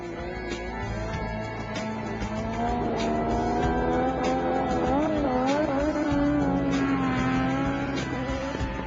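Three Formula One racing cars roar along a 1,000-meter runway in a race against an F-104 jet in the early 1980s, high engine whines rising and shifting in pitch as they accelerate past, continuous and loud.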